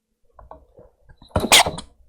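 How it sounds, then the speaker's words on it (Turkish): A single sharp sneeze bursts out near the end, close and loud, after some quiet shuffling and faint movement noises. "Ay hapşırdım."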